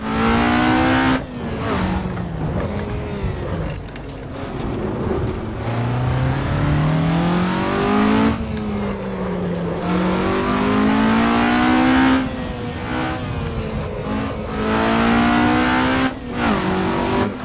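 A Maserati race car in the Assetto Corsa racing game, driven at the Monaco circuit, roars loud and close with engine pitch climbing and dropping through repeated gear changes and brief lifts, running continuously with no talk.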